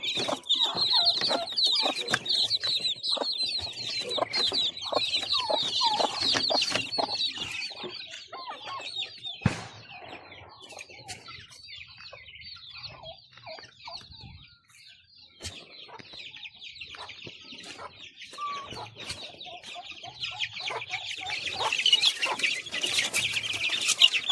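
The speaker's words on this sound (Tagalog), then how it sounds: "bago din itong pisa. Daming sisiw." Hens with a freshly hatched brood of chicks cluck and chirp in a farmyard, a busy mix of soft clucks and high peeps close by, rising and falling with a brief lull midway.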